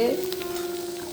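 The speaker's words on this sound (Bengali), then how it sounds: "আমার ভগবানের আজকে রান্না হচ্ছে উচ্ছে আলু ভাজা" Bitter gourd and potatoes fry in a pan, a soft steady sizzle with faint stirring and a sustained tonal hum in the background.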